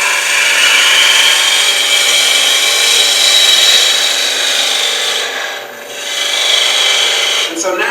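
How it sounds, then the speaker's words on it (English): A bowl gouge cutting a wooden bowl on a lathe gives a loud, continuous hissing scrape that holds steady for several seconds, dips briefly and then resumes, close up and with nobody speaking over it. "a bowl gouge is working great"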